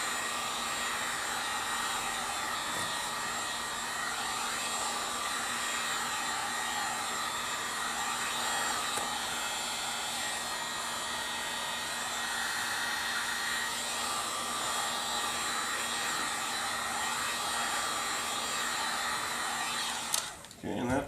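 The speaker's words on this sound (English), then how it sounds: "We use heat guns here, but we would recommend that you just use a hair dryer at home." A hair dryer or heat gun blowing steadily on black leather chair upholstery being repaired from cat scratches: a continuous close whooshing hum with a faint tonal whine, unbroken for the whole stretch until a brief clatter at the end.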